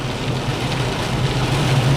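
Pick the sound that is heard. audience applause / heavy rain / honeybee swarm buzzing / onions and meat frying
heavy rain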